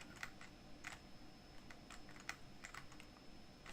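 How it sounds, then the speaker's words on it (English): Faint keystrokes on an old PC keyboard, typed in short irregular bursts with clear individual clicks and pauses between them. "playing it with keyboard is about as good as you're gonna get for a D-pad on an"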